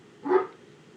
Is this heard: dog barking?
yes